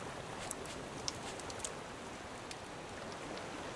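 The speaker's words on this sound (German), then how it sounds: "Nee, jetzt im Nebel und Regen nicht." Steady rain hiss in the survival game Raft, a dense, even patter of drops on surfaces with occasional brighter splashes, quiet and continuous with no voices.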